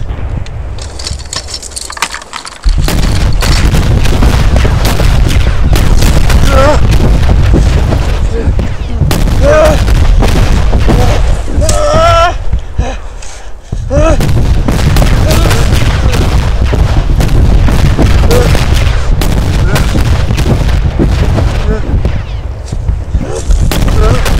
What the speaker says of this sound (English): One of men's worst creations in war is artillery.